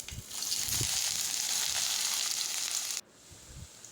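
Chopped big onions hitting hot oil with whole spices and a dried red chilli for a paneer gravy, a loud steady sizzle and fry that drops abruptly to a softer hiss near the end.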